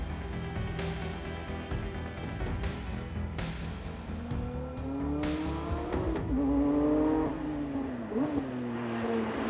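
Cabin of a 1969 Porsche 911 S on the move, lightly insulated so the flat-six engine drones loudly throughout, pitch climbing as it revs up through the gears, with steady road and wind noise and no talking.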